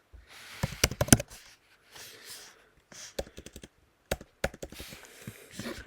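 Someone types on a computer keyboard in quick bursts of sharp, close key clicks separated by short pauses, with no speech.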